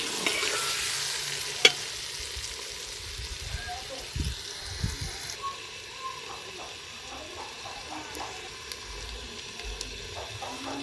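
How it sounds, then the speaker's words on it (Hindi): Arbi (taro root) and eggplant sizzle and fry in a pan while being stirred, with a steady crackle and occasional scraping clicks of the utensil; someone talks over it. "इसकी भी अब हल्की सी बुनाई करेंगे।"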